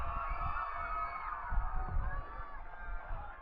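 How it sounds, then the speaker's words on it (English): At a BYU-Idaho ultimate frisbee championship, spectators take up a Wolverines chant, a distant rising and falling group shout with cheering, heard faintly and somewhat muffled behind a steady broadcast hum. "the Wolverines chant comes out now from the crowd"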